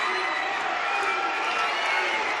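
A packed wrestling arena crowd roars and cheers continuously, a dense wash of loud voices filling the whole moment with no break.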